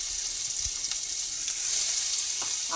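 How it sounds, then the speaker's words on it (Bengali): Chilli, bay leaf and garlic fry gently in oil over a lowered gas flame, giving a continuous bright, airy sizzle with a few soft knocks, steady and close with no voices. "গ্যাসের ফ্লেমটা কমিয়ে নিয়েছি, দুটোই অল্প করে ভেজে নিচ্ছি"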